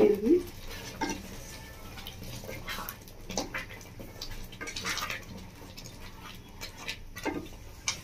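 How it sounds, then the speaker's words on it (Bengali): A spoon stirs fish khichuri in a cooking pot, making soft intermittent scrapes and clinks against the metal, fairly quiet and irregular over a low kitchen background. "ভালো করে একটু নেড়ে দেবো।"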